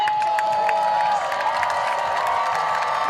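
A baseball crowd at an Oakland Ballers game against the Missoula Paddleheads cheers and applauds in a steady, full roar, with scattered whoops and claps rising above it throughout.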